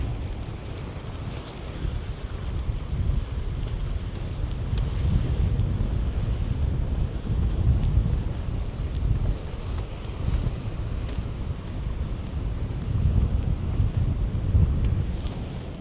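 Strong seaside wind buffets the microphone in a steady roar on an island walkway across the sea, with rolling surf and waves churning underneath for the whole stretch.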